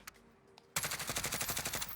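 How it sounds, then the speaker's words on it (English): Rapid automatic gunfire from a weapon in Modern Warfare, a first-person shooter, bursts in after a quiet stretch and continues as a loud, steady stream of closely spaced shots. "Now if I go to reload and then start shooting away, we can do that."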